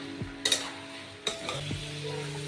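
Prawns and cucumber with cumin and spices sautéing in a pan, a steady low sizzle broken by a few sharp spatula scrapes and clinks against the metal, close and fairly quiet, with no talking.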